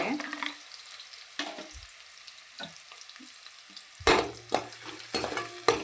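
Onions and green chillies fry in a pan with a steady hiss, punctuated by clattering stirring strokes that grow busier toward the end.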